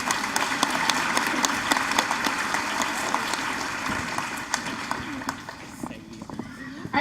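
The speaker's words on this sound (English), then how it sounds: "a big round of applause" A crowd in a school gymnasium or hall at a high school sophomore and junior awards night claps in a dense, sustained round of applause that fades slightly toward the end, with a voice speaking over it.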